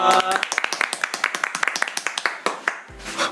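A small group of podcast hosts claps steadily for a few seconds, the applause fading out as a voice begins at the end.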